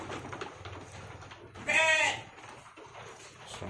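A single goat bleats loudly once, a wavering cry standing out over faint background noise and murmur.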